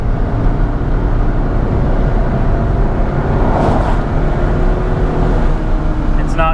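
2004 Chrysler with a Mercedes 722.6 transmission driving in limp mode and stuck in one gear, a loud, steady, unchanging engine and road drone heard from inside the cabin, with a faint brief chime near the end.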